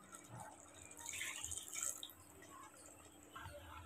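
Water poured into a cooking pot of mutton boti curry with coconut paste, a faint, light trickle and splash lasting a few seconds, recorded in a quiet kitchen.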